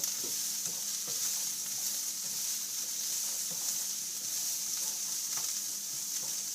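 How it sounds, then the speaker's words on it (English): Olive oil sizzles and crackles steadily in a very hot pan, with small scattered pops over a constant bright hiss, close and fairly quiet. "You can hear the olive oil popping."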